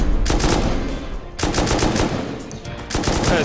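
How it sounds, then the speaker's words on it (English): A rocket barrage hitting a base in the survival game Rust, heard as loud, dense, rapid-fire bursts of explosions and gunfire-like cracks. The bursts come in three sustained waves with only brief gaps between them. "look at all these rockets coming in. What a barrage."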